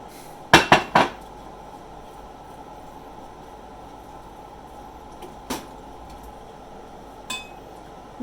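A few clinks and knocks of leftover cooked turkey being put into a pot pie dish, a quick cluster of sharp clatters near the start, then a couple of lighter taps later in a quiet kitchen.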